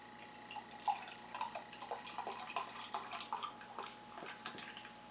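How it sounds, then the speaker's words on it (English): Thomas Kemper root beer pours into a frosted mug, a soft trickle with scattered drips and light fizzing, fairly quiet and close, with no voices. "So crack this bad boy open, pour her into the old frosted mug."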